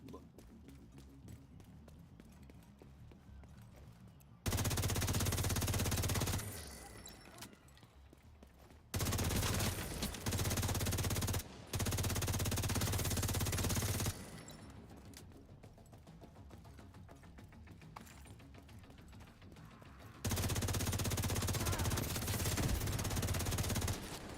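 Sustained bursts of rapid automatic gunfire from The Division 2 video game, loud and close, coming in several long volleys separated by quieter stretches with a voice talking between them.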